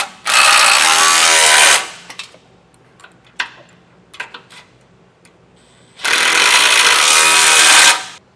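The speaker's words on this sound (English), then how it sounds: "Now I'll tighten the smaller bolts. I'm using a 14mm socket for these." A ratchet with a 14mm socket tightens smaller bolts while fitting a tow base plate to a 2024 GMC Canyon, two long loud rapid clicking runs at the start and end, separated by quieter clinks and taps.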